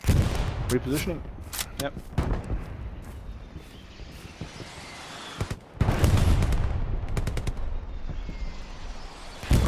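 Rifle gunfire in a video game shooter, sharp cracking bursts of rapid shots in clusters, separated by quieter stretches, with a player's voice speaking briefly between volleys.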